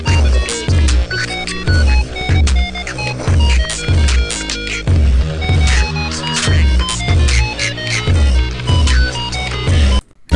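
An electronic music track plays loud and close, with heavy, punchy low beats in a steady repeating pattern. Bright synth stabs sit over the beat, and the track cuts off abruptly at the end.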